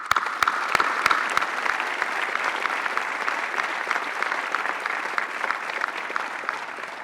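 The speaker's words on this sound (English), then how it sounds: "how about a round of applause" An audience at a university presidential awards ceremony claps, starting with a few sharp, distinct claps that quickly swell into steady, moderately loud applause lasting several seconds.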